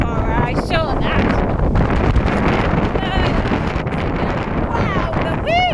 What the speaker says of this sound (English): Hey, the wind's gone crazy!